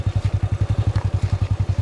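A motorcycle on a road trip putters close by with a steady, rapid, evenly spaced exhaust thump, a regular low pulse under faint background noise.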